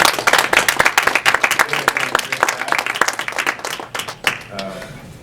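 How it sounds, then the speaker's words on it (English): An audience at a neighborhood community gathering claps loudly and close, with dense, distinct hand claps that thin out and fade toward the end, and a voice is heard alongside. "I just want you all to really give them another applause,"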